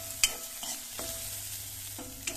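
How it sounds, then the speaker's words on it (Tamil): Onions sauté in a pan for idli upma, a soft, low sizzle broken by several sharp scrapes and taps of a spatula against the pan, the first and last the loudest. "வெங்காயம் வதங்கிடுச்சு"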